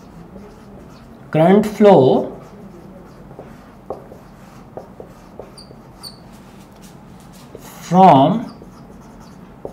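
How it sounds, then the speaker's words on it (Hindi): Points are written on a board during a physics lecture, faint scratchy taps and strokes heard between bursts of a man's speech. "तो ये तमाम पॉइंट्स मैं इसमें लिख देता हूं।"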